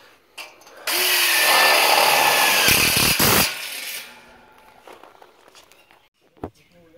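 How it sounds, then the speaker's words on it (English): A power drill drives screws into the support brackets of a large RV shelter during installation, sounding as a loud, steady whir that runs for about three seconds and then stops, followed by faint knocks and footsteps nearby. "they're putting screws in on those support brackets from the other side"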